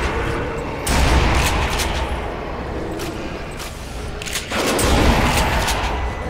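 Shotgun gunfire in the zombie shooter Zombie Army, with several heavy booming blasts in an irregular sequence, loud and close, over continuous game background noise.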